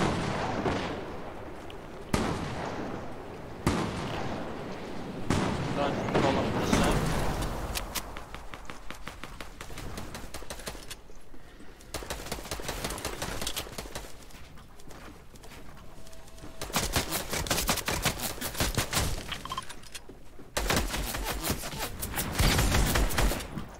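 Rapid video game gunfire crackles in dense bursts with heavy explosive booms, loud and continuous throughout, with brief pauses between volleys.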